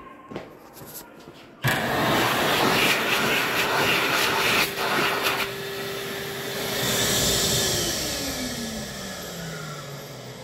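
An Excel Xlerator hand dryer fitted with the 1.1 nozzle starts abruptly and blasts with a loud, steady roar, its pitch dropping slightly as it winds down near the end.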